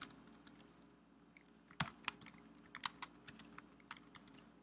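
Keystrokes on a computer keyboard as a terminal command is typed during an Oracle WebLogic 10.3.6 install, a quiet run of scattered clicks with a few sharper taps and short bursts over a faint background hum.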